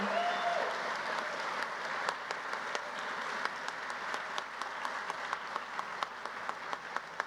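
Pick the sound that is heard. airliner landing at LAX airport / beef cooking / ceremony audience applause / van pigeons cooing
ceremony audience applause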